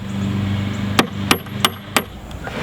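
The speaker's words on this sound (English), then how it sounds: "You may need your hammer to bang it in there a little bit." A hammer drives a bolt through washers while building backyard quintuple steps, four sharp metallic strikes in quick succession over a steady background hum.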